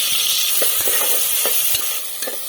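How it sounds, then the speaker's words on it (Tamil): Ground shallots sizzle and crackle in hot oil while browning for mutton biryani, a steady hiss with scattered pops and stirring scrapes, close by with no talking. "வெங்காயம் நல்லா பொன்னிறமாக வதக்கிக்கோங்க."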